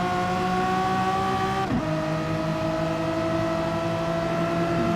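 Race cars driving during a race, a loud continuous engine drone with sustained harmonic tones that shift briefly as gears change, heard from inside or close to the car without speech.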